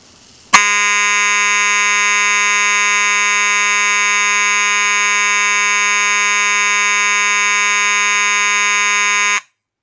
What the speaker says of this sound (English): I have both the strobe and the horn wired up